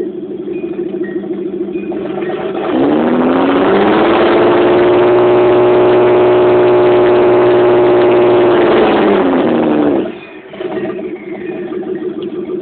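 A mildly modified Nissan 280ZX turbo engine, loud and close, idles roughly, then rises into a sustained steady rev held for several seconds before dropping sharply back to idle.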